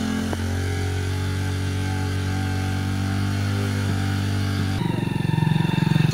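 A motorcycle engine idles with a steady low drone nearby, then shifts and revs rougher toward the end.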